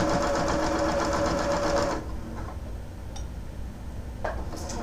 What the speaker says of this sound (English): going to sew this row onto the other 2 rows that have been already done